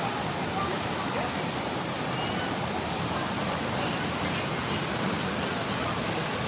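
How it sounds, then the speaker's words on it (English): Waterfall at Disneyland at night, a constant full rush of falling water close by, heard alone and steady with no pauses. "I don't know how much you're gonna hear us walking by the waterfall"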